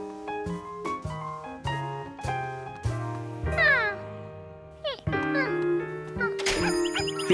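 A cartoon cat meows repeatedly, several clear, drawn-out mews over a bright orchestral score, with a jingling tinkle near the end.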